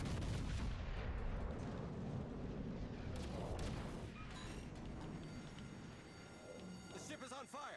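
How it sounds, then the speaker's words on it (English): Heavy naval guns firing high-explosive shells in World of Warships, with booming artillery blasts and rumbling impacts under a speaking voice, fading somewhat toward the end. "Actually, Richelieu's still shooting HE."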